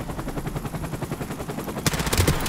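Rapid automatic fire from a Mac-10 submachine gun in Call of Duty 4: Modern Warfare, heard as quick, evenly spaced bursts that swell into a louder, sharper volley near the end.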